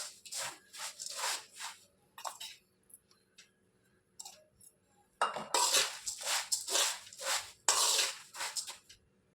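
Fried flattened rice (avalakki) mixture is tossed with spice powders in a vessel, giving close, intermittent bursts of dry rustling and scraping with short pauses in between.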